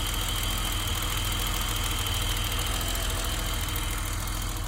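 The straight-six engine of a 1989 BMW 735iL idles in a steady, even drone with a low throbbing pulse and a faint ticking of injectors, heard close and continuous with no talk.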